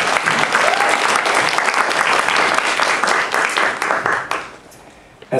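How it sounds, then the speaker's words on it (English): Loud, dense audience applause fills the room at an opening welcome event at the Japanese American National Museum, then fades quickly to near silence before a final sound at the end. "big round of applause."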